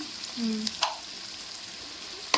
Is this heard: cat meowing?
no